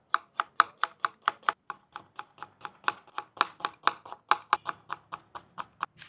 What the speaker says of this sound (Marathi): आपण आता कांदे कट करून घेऊ।